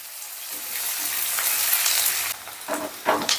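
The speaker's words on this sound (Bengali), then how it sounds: "এবার পেঁয়াজটাকে আমি হালকা করে ভেজে নেব, মানে একটু নরম করে নেব।" Chopped onions frying over high heat, a loud, bright hiss building from a quieter start, with stirring scrapes and bursts of crackle near the end.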